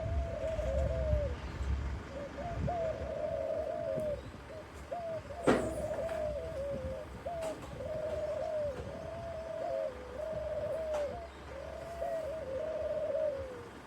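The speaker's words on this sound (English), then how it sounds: "Rock doves." Rock doves coo in a steady series of soft, repeated calls on a shady walk, heard near and clear over a low rumbling background with a brief sharp knock midway.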